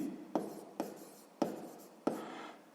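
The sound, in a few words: writing on paper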